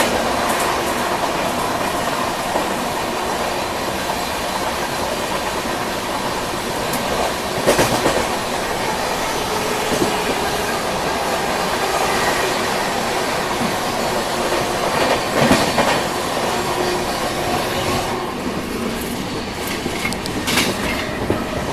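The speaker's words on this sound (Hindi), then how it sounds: "एक्सप्रेस का ओवरटेक हो गया।" An express train runs steadily on the rails while overtaking, a continuous loud rumble with rhythmic clickety-clack and occasional sharper wheel clatters throughout, without speech.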